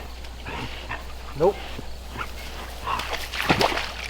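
Dogs on an old homestead let out short, high whimpering yelps and barks in a couple of brief bursts, mixed in with a person talking nearby.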